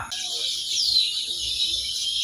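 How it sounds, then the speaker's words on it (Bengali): Sparrows chirping in palm trees in a village, a steady high-pitched chatter of many birds blending into a continuous twitter, fairly close and even in loudness. "সকালের আবহে পাখিরা করছে ছোটাছুটি করছে কিচির মিচির শব্দ"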